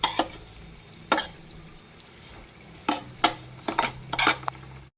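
Dry fruits fry gently in ghee in a pan, a soft low sizzle broken by several sharp scrapes and clinks of a spoon stirring against the metal.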